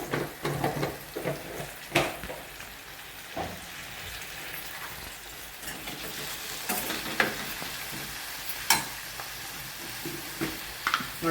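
Fresh curry leaves fry in a pan for a yam stir-fry, giving a soft, continuous sizzle broken by occasional clicks and scrapes of stirring, moderately quiet and without talk.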